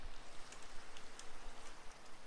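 Steady rain in Minecraft with the Pixelmon mod, a dense continuous hiss of falling water with scattered brighter drop ticks, fairly quiet and alone.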